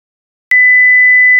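A pure sine tone generated in Python starts abruptly after a short silence and holds loud and perfectly steady until it cuts off.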